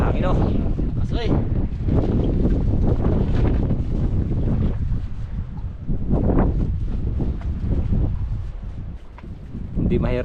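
Gusty sea wind roars steadily over a microphone on a small fishing boat, loud and buffeting throughout, rising and falling slightly, with people talking beneath the noise.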